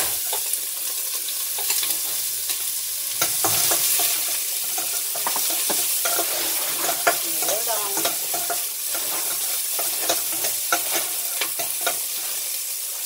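Garlic and onion fry in a pan for a beef soup with ginger and tomatoes. A steady, close sizzle runs throughout with scattered clinks and scrapes of stirring.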